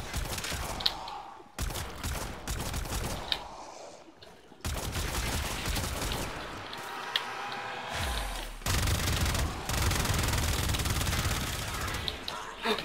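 Rapid gatling-style gunfire in the video game Warframe comes in sustained bursts separated by short pauses, loud and close with crackling impacts.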